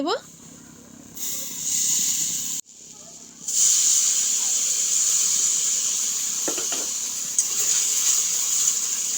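Cow's milk poured into hot fried semolina for a sweet suji snack: a sudden loud steaming hiss that breaks off briefly, then returns as a sustained sizzle with a few faint utensil taps.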